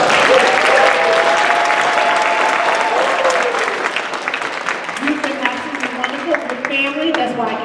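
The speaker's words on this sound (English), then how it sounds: "give them all a round of applause" Audience applause fills a Dallas mayoral candidates' forum, loud and steady at first and then thinning into scattered clapping, with a speaker's voice running over it throughout.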